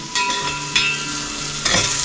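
Onions frying in a pan for a Nashik-style mutton thali, a steady close sizzle with brief louder bursts as they are stirred.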